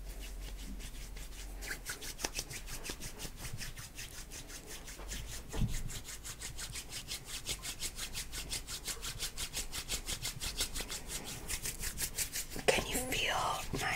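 Hands rub steadily over skin during an ASMR body massage, a close, soft, rhythmic swishing friction that repeats in quick even strokes, with quiet whispery sounds mixed in.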